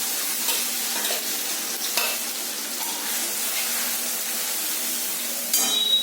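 A paste of garlic, green chili, ginger and onion sizzles steadily in hot oil in a pan for an egg beresta dish, a close, even hiss with faint stirring clinks.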